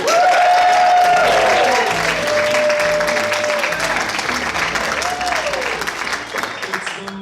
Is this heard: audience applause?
yes